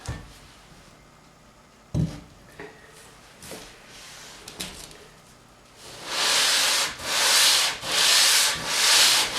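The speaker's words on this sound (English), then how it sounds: "I might have to go with the 220 to get a little bit better of a cut on it." Sanding of the hardened ways on an Atlas 618 lathe with 220 grit sandpaper: a few scattered scrapes and knocks first, then four loud, rhythmic back-and-forth rubbing strokes close by with no talking.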